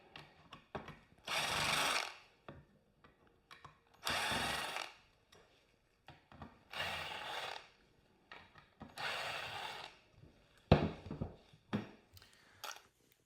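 Power tool spinning out T25 Torx bolts from a Corvette seat rail, several loud whirring bursts of about a second each separated by pauses and light handling clatter, close by with no speech.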